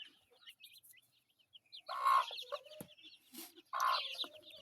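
Farmyard hens cluck in short, close, scattered bursts, with louder clustered calls at intervals over a quiet background.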